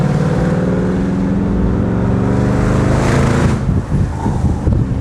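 A V8 Jaguar engine drones loudly and close as the car drives, a steady rich rumble that swells slightly as it accelerates.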